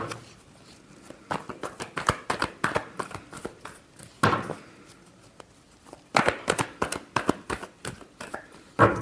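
Tarot cards shuffled during a Gemini love reading, a run of quick papery riffles and slaps in uneven bursts, close and fairly loud, with no talking.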